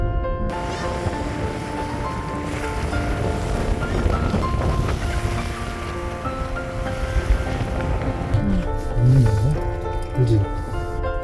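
Strong wind gusts at a seaside car-camping spot on a stormy day, blustering steadily across the microphone as a wide, rushing roar with no quiet gaps, while people talk faintly beneath it.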